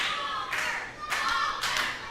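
Crowd applause at a ProSouth Wrestling event, close and dense, rising in three bursts over steady background noise with no clear talk.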